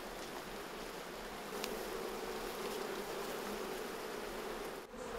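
Honeybees buzzing steadily around a hive weakened by chalkbrood disease, a continuous dense hum from many bees close by with no talk.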